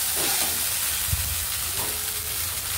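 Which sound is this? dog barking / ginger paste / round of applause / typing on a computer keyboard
ginger paste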